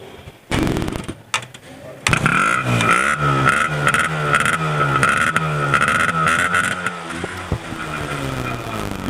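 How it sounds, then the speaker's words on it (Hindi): Kawasaki GTO 125 two-stroke motorcycle with disc brakes, its engine running up close with a loud, steady buzzing drone after a brief start, revving with repeated rising and falling pitch sweeps throughout. "Typical 2 stroke sound."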